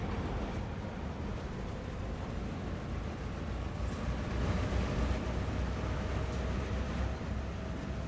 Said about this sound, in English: The engines don't sound that bad either.